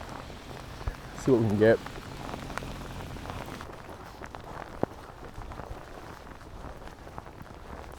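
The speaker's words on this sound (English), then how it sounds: "I hope this rain just chills out just a little bit." Steady rain falling on surfaces in a Swiss town street, a constant soft patter with occasional louder drops, and a person briefly speaking near the start.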